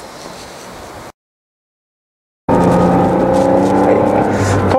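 Smart car on a test drive, its engine and road noise droning steadily and close inside the cabin after a short gap of silence, with faint talk earlier in the clip.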